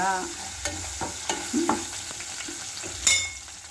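Tempering seeds fry in a pan with asafoetida, turmeric nearby, crackling and sizzling softly while a spoon scrapes and stirs in short, irregular strokes, close up with no voices.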